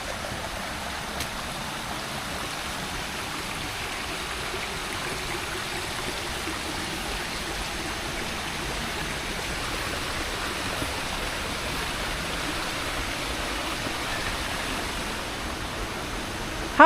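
A river flows through a forest in a steady, even rushing and trickling hiss that holds at moderate loudness throughout, with no voices and a small knock right at the end.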